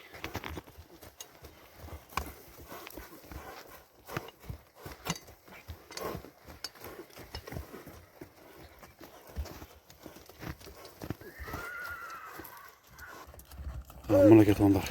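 A horse walks nearby, its hooves clip-clopping in a steady irregular rhythm while someone talks over it, with a brief louder shuffle near the end.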